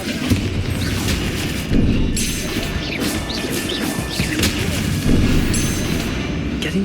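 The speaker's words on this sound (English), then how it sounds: "Bombarda!" Bombarda blasting spell explosions in the video game Hogwarts Legacy, a dense continuous barrage of loud booms and crashing impacts layered over rumbling game sound, with sharper bursts recurring every second or two.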